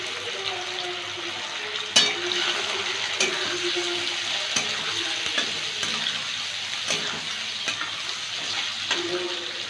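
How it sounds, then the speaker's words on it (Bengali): Carrots and green beans fry in hot ghee for vegetable fried rice, a steady close sizzle with occasional stirring clatters and one sharp knock near the start. "গাজর আর বিন একটু ভেজে নেব, 2 মিনিট ভেজে নেব"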